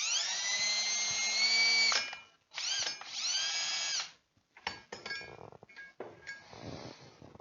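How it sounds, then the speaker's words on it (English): Power drill with a bit boring into wood for a beehive inner cover, two loud whining bursts that rise and fall in pitch, then short stuttering bursts and light clinks close by. "Not quite sure about the drill bit there and how I'm gonna not drill through my table"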